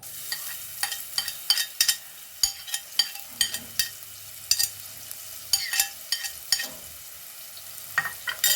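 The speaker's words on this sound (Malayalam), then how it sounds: "ഈ വെളിച്ചെണ്ണയിലേക്ക് ആദ്യം ഇഞ്ചി വെളുത്തുള്ളി ഇട്ട് കൊടുക്കാം" Ginger and garlic fry in coconut oil under a steady, close sizzle, with frequent sharp scraping taps of a spoon against the pan throughout.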